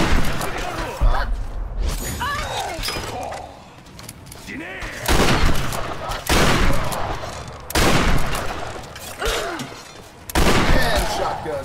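Shotgun blasts in Tomb Raider come in loud, heavy bursts roughly every second or two, with booming impacts and crashes between them and a voice talking at times over the combat.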